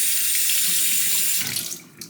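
Water runs steadily from a tap during straight razor honing on a Vermont green slate stone, a close continuous hiss that cuts off after about a second and a half, leaving brief drips and handling sounds.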